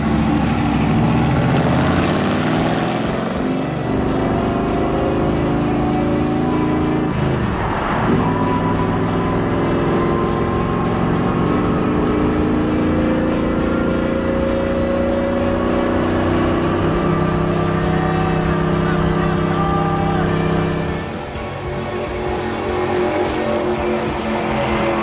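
A NASCAR stock car lapping Auto Club Speedway in a racing-experience drive, a loud, steady engine drone heard from close by, with the pitch shifting as it goes through the gears and a brief dip near the end.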